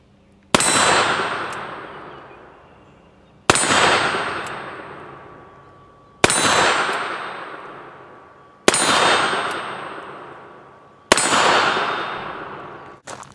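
Five loud shots from a Griswold and Gunnison replica revolver, spaced a few seconds apart. Each crack is followed by a long ringing decay, as if it strikes a metal target, and no one speaks.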